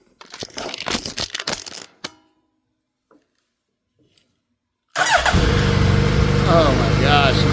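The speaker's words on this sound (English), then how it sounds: "Alright, let's give this bike a little bit of choke. See if she fires up." Gen 1 Suzuki Hayabusa motorcycle started on choke: crinkling handling noise, then near silence, then the engine catches abruptly and settles into a loud, steady idle close by.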